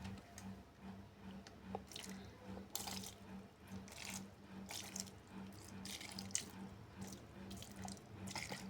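Liquid pours and splashes steadily into a pot of fish paksiw with eggplant, a vinegar addition in a home kitchen, trickling and dripping continuously over a low, steady hum.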